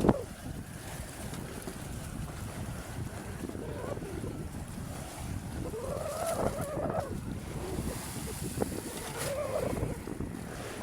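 Steady wind roars against the microphone with a broadband rush, gusting slightly louder in places, over a faint background of water and boat noise.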